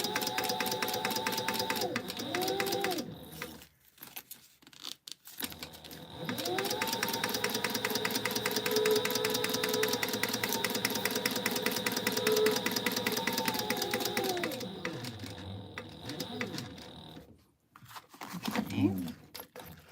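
A sewing machine stitching the zipper seam of a fabric tote bag: a steady mechanical whirring hum that runs in two long stretches, with short pauses between them and a little quiet talking.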